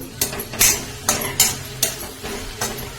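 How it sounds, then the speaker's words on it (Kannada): Okra stirred and fried in a pan over a low flame, with several distinct metallic scrapes and clinks of a utensil against the pan at an irregular pace over a soft, steady background. "ಪಲ್ಯ ಚೆನ್ನಾಗಿ ಒಂದು ಎರಡು ನಿಮಿಷ ಹುರ್ಕೋಬೇಕು ಲೋ ಫ್ಲೇಮಲ್ಲಿ ಇಟ್ಕೊಂಡು"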